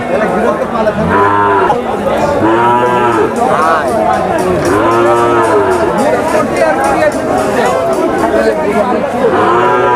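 Native cattle moo loudly and repeatedly, several long lowing calls close by, over a constant murmur of crowd chatter at a busy livestock market.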